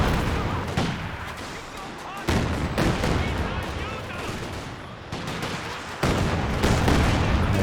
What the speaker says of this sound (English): Katyusha barrage though, looking to jam the capture in the center